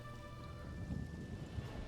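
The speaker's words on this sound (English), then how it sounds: "it seems to rain a lot here, doesn't it?" Steady rain falls in the Summerset setting of Elder Scrolls Online, a soft continuous hiss with low rumbling underneath and a tonal hum in the background, quiet and without voices.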